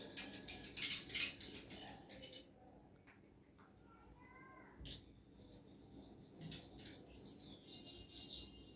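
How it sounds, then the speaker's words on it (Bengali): Payesh, a thickening rice pudding, stirred in a pot: rhythmic scraping and rubbing strokes, brisk at first, then slower and softer, with occasional clinks close by. "পায়েসটা বারবার নাড়তে হবে, নাড়ে যাতে পুড়ে না যায়।"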